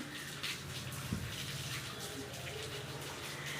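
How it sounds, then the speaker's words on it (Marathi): Water is poured over a bullock to cool and bathe it in hot weather, a soft, continuous splashing gush heard fairly faintly outdoors. "बांधून त्याच्या अंगावर पाणी टाका"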